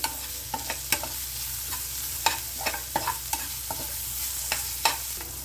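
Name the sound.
sautéing green chillies, ginger and garlic in oil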